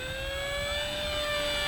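An XK A1200 electric RC airplane flying overhead, its motor giving a steady, continuous high whine with no pauses, moderately loud and alone.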